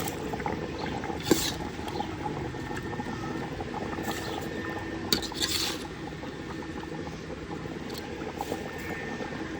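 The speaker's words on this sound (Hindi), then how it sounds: "पानी उबलने लग गया" Water bubbles and simmers in a pot for yakhni beef pulao, with a steady, dense churning, joined by a few faint metallic clinks of a utensil.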